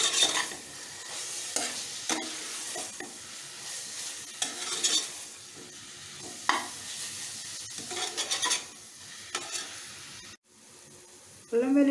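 Ginger garlic paste frying for mutton curry, a steady sizzle with repeated stirring scrapes in a pan, then a sudden drop near the end before a new sound begins.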